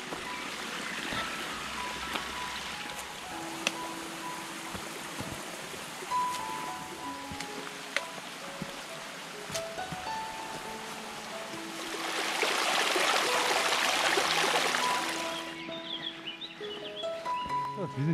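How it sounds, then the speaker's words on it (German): Water bubbling in a mountain stream gully in limestone mountains, a steady soft wash of flowing water under light talk, swelling to a louder rushing burst near the end. "da sprudelt Wasser, während der Graben unten trocken ist"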